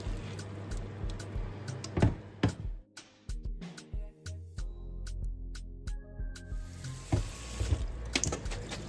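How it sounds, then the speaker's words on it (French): Cooked tagliatelle tipped into a colander to drain, water gushing and splashing into a sink in uneven bursts, with knocks and clatters of the pot and colander, fairly close. "je vais les passer à la passoire pour vider l'eau"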